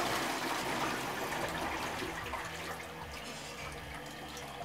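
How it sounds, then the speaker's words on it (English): A toilet gives a full flush during a bathroom renovation, a steady rush of water draining and swirling that slowly fades to a quieter trickle, with no one talking. "Give it a full flush."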